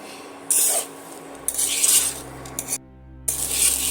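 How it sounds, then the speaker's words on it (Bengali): Rice and potatoes stir-fried over low to medium heat in a pan, with bursts of scraping and metallic clatter from a spatula against the pan, separated by short pauses and over a low background hiss. "এটা আমি সময় নিয়ে একটু লো টু মিডিয়ামে আঁচে দিয়ে চালগুলো সুন্দর করে আলুর সঙ্গে এইভাবে কষিয়ে নিচ্ছি"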